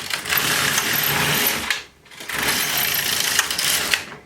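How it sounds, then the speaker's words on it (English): An LK150 knitting machine carriage sweeps across the needle bed, knitting every other needle, making a steady mechanical rasping and whirring in two long passes with a brief pause between them. "So we're just going to be continue knitting like this, knitting every other needle."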